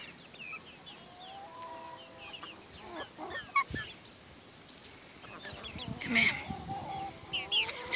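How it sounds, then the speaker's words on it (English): Chickens cluck and mutter continuously nearby, with occasional louder squawks, while a person speaks softly among them. "Dramatic chickens. Now, little chickens, let me settle down first."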